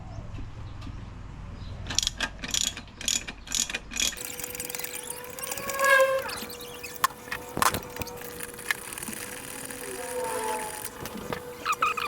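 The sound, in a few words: loosening nuts on Suzuki 6 hp four-stroke outboard engine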